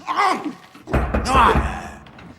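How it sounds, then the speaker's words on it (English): A door thunks shut with a solid low slam midway through, while voices speak around it. "Door."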